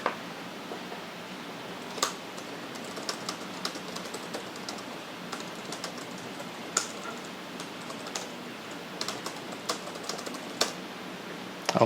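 Text typed on a computer keyboard makes a quick run of light key clicks with a few sharper taps, close by and steady throughout, with no talking.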